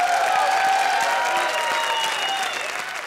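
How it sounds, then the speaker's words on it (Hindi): A comedy show's studio audience applauds its hosts Archana and Arbaaz, a full, sustained wave of crowd clapping with a faint cheer that slowly eases off toward the end. "एक बार आर्ची और अरबाज के लिए जोरदार तालियां."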